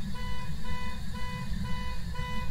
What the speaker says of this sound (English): Please turn off the car alarm.